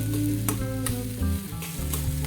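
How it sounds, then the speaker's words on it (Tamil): Capsicum usili being mixed and fried in a pan: steady close sizzle with scraping strokes of a spatula stirring the mixture, several distinct stir sounds over continuous frying. "இதை நல்லா மிக்ஸ் பண்ணி விட்டுடலாம் இந்த மாதிரி"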